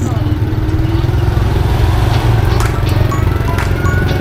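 A tuk-tuk's small engine chugs with a fast, rhythmic low putter during a ride through Vientiane, Laos, close and continuous, with street traffic noise around it.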